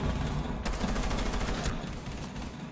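Video game gunfire crackles as a dense burst of rapid shots over steady background noise, close and fairly loud, with no voices heard.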